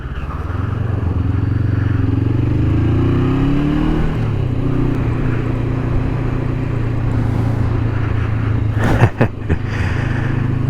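A motorcycle heard close up as it rides along a winding twisty road, a steady loud engine drone with rising revs and wind rush, plus a few sharp knocks near the end.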